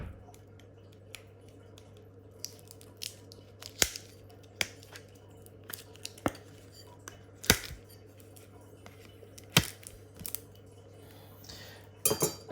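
A knife slitting open a package of McDonald's trading cards taped between top loaders, heard as sparse sharp snips, clicks and plastic crinkles over a faint steady hum, close and quiet.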